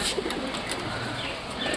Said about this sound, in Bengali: চটিয়াল ডাক শুরু করে দিয়েছে